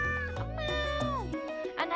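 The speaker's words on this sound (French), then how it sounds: "adorable chaton." A kitten in the Stardew Valley video game gives a few quick, high meows in close succession, clear and near, with soft game sounds around them.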